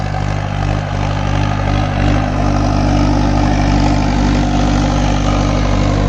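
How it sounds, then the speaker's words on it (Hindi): A tractor engine runs steadily while hauling a load of soil, with a deep, continuous low rumble and idling drone held at an even loudness throughout, close by and without talk. "इतनी मिट्टी भरने के बाद भी ट्रैक्टर बड़े आराम से चल रहा है"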